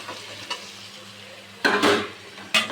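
Curry leaves, coriander, mint and tomato sauté in a pan for chicken biryani: a low, steady sizzle, then two loud bursts of scraping and stirring near the end, close by and with no voices.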